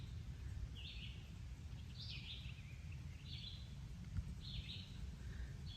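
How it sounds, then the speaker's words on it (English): Birds sing outdoors on a sunny day in Virginia, with several faint, brief chirping phrases over a steady low rumble of background noise. "so you can hear the birds"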